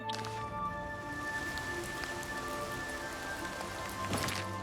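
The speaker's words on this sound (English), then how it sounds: "Raining IRL." Steady rain patters on a surface, soft and continuous with scattered drips, fairly quiet throughout.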